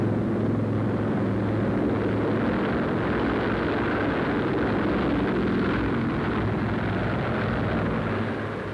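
Four huge piston engines of a 1942 Navy Mars flying boat roar in a steady, loud, continuous drone with a deep rumbling low end, unbroken from start to finish.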